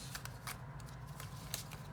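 Tarot cards being shuffled, a quick run of soft papery riffles and flicks close to the microphone, quiet and alone with no talking.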